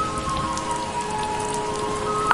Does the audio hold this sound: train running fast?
no